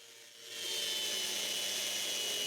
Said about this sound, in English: The first thing to do is sand the 2 big glue ups.